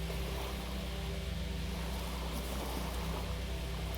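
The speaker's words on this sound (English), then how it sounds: "hearing the waves," Ocean waves on a beach, a steady, unbroken wash of surf filling the whole stretch at an even level with no separate breaks standing out, and no voices over it.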